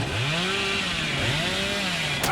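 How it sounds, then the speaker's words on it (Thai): Hillbilly's chainsaw in the video game Dead by Daylight roars steadily and loudly, its pitch swooping up and down twice as it revs, with a brief sharp click at the end. "ผมอยากใช้เลื่อยให้มันล้มไปเลย"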